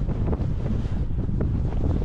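Strong sea wind gusts across the microphone on the coastal path at Playa de Palma near Can Pastilla, Mallorca, a loud, rumbling buffet with surf faintly beneath, no voices.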